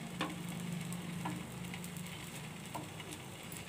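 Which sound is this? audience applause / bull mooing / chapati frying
chapati frying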